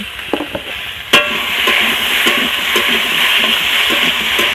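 Bottle gourd pieces fry in oil over a low flame, giving a continuous soft sizzle with a few sharp clicks of a spatula stirring the pan, close and steady with no talking.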